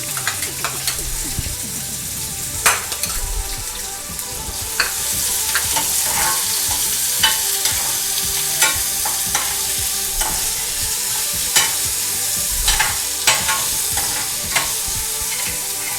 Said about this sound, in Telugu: ఇప్పుడు ఇవి వేగిపోయాయి కదా, దీంట్లో ఆనియన్స్ వేస్తున్నాను అనమాట.